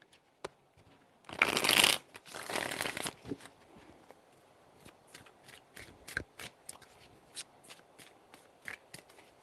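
Tarot cards shuffled close up in a quiet room, a dense riffling burst followed by a second longer run, then scattered soft taps and flicks as the deck is handled.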